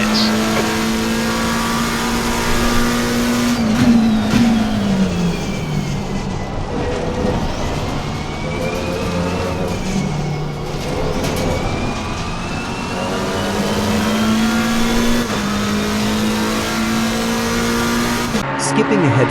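Race cars lapping the Imola circuit in a racing game, a loud, continuous engine drone rising and falling with shifts and revs, with other cars nearby and a voice talking over it.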